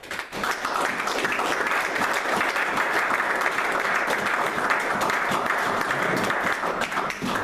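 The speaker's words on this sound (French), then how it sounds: "Nous acclamons pour les royaumes." A church congregation breaks into loud, sustained applause, dense and steady clapping filling the room for several seconds without letup.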